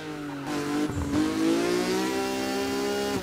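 A car engine in the video game Burnout Paradise revs hard and holds at a high, buzzing pitch, steady and loud, with a brief dip before climbing again.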